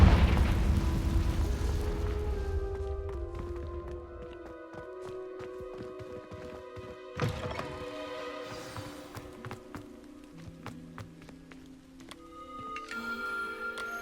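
A Confringo fire blast spell explodes in Hogwarts Legacy, a loud low booming eruption at the start that rumbles and decays over several seconds, followed by a second sharp burst midway amid layered game music and effects.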